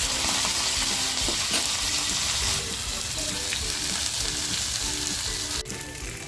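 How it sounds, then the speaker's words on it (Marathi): Silverbar fish (karli) roe fries in a little oil in a pan, giving a steady, loud, continuous sizzle throughout. "करलीची गाबोळी मी काढून घेते आणि तीसुद्धा अशी छान फ्राय करायला टाकते"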